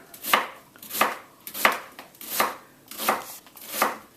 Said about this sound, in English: start by slicing the onion.